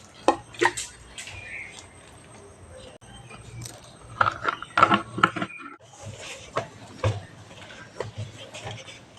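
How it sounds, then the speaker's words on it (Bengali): Hands knead flour dough for butter naan while water is added a little at a time, making close, irregular wet squelches, slaps and drips in bursts with short quiet gaps. "অল্প অল্প করে জল দিয়ে একটা ডো তৈরি করে নিচ্ছি"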